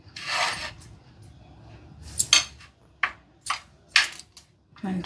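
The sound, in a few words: mixing spice powder by hand in a bowl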